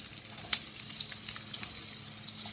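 Chopped onion frying in olive oil in a pan while making pizza sauce, a soft steady sizzle with faint crackles and one sharper pop, heard alone at a low level.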